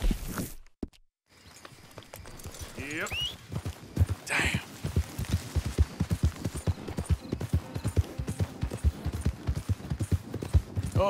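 Horse hooves in Red Dead Redemption 2 clip-clopping in a quick, steady rhythm that picks up into a gallop and continues throughout, with a brief voice near the start.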